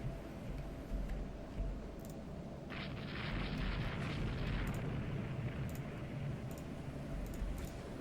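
Torpedo hits on warships in the naval strategy game Rule the Waves 2, a heavy continuous rumble of explosions with a brighter burst swelling partway through and faint sharp ticks over the top.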